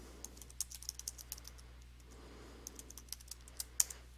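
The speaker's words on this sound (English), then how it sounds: "Let me type this out." Someone typing on a computer keyboard, light close-up key taps in two irregular bursts separated by a brief pause, over a faint steady hum.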